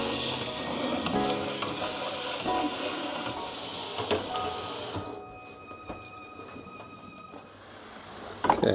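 Sliced red onion sizzles steadily in a pan, with brief clinks and a short dip in noise before the frying hiss returns.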